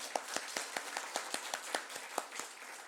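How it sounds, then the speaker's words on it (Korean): Steady rhythmic clapping in a church prayer meeting, about a dozen sharp claps at an even pace, moderately loud with a faint room murmur behind. "박수 한번 쳐줍시다"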